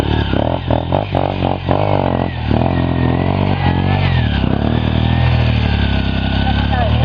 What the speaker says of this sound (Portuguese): Tem mais condição de passar a moto, Marcão?